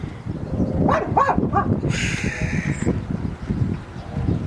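Two dogs trade a few short, harsh barks in quick succession at middle distance outdoors, followed by a gust of wind noise.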